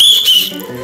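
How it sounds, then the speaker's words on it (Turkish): A shrill police-style whistle from a Turkish comedy sketch about a night watchman and a boza seller, blown in a short high blast at close range, with a voice underneath. "Düdük çalıyorum ya, ben."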